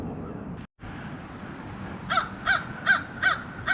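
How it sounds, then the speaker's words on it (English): Loud crows caw from a tree near a home, five or six evenly spaced calls ringing out over steady background hiss and outdoor ambience. "There is some very loud crow in this tree."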